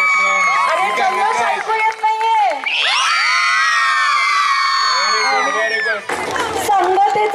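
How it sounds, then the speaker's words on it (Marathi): Students cheering and whooping at an inter-school patriotic song competition, a loud sustained crowd roar rising in the middle with excited children's shouts, then fading into mixed noise and voices at the end. "टाळ्यांच्या गजरातच ते व्हायला पाहिजे."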